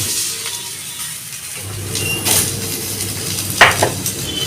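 Pieces of cut raw mango fry in hot oil with mustard seed and half a chilli, giving a steady sizzle with scraping stirs and a few utensil clinks.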